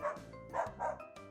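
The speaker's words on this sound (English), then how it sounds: "This is a dog!" A dog barks in a quick series of four or five close, clear yips and woofs, loud and alone, with no talking.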